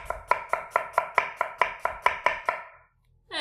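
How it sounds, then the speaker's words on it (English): A knife slices a red onion thinly on a cutting board, a quick regular series of about a dozen crisp chops that stops abruptly, followed by a brief soft rustle. "So I'm gonna cut the onion."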